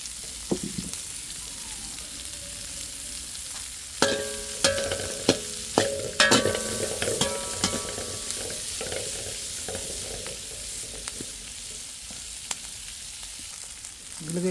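Garlic, onion and ginger sizzle steadily in a pan while a utensil scrapes and clinks against it in irregular bursts, close up, with no talk.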